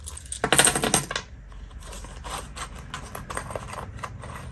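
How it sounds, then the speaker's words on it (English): Coins being pulled from a wallet while sorting cash into envelopes, a loud burst of jingling and clinking metal followed by quieter scattered clicks and rustling, close by with no talking. "Sometimes these coins can get really stuck."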